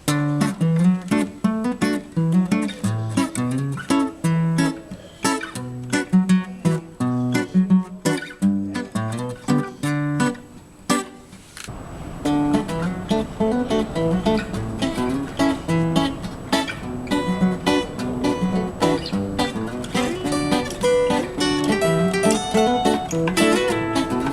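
A guitar playing a song alternates low bass notes with strummed chords in a steady, fairly quick pattern, played alone without any voices.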